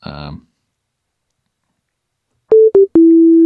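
A pure sine tone from an init patch on a Korg Kronos Mod-7 sounds in two short blips followed by a steady held note. A brief voice comes just before it, then a pause.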